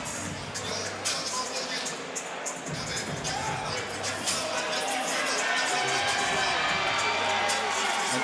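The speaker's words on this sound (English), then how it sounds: "Just milking the applause there" A packed crowd at York Hall cheers and applauds after a boxing fight, a broad, sustained roar of clapping and voices that holds steady throughout.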